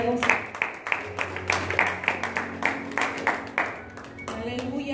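Rhythmic congregational clapping during a Spanish-language church service, a steady beat of many hands in unison with voices and faint music beneath, tapering near the end.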